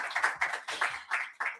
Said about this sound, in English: Might I ask for a big round of applause to my panelists